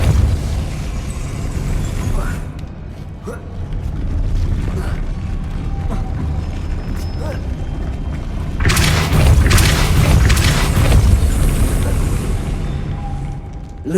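A Depulso spell blast in the video game Hogwarts Legacy, a loud booming burst with rumbling low end, joined by other game effects and a second heavy surge of noise later on.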